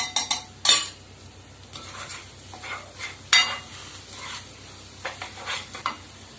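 Spices being stirred into a jackfruit mixture in a hot pan, with irregular spoon scrapes and clinks against the metal over a low sizzle, loud and close, with no voices.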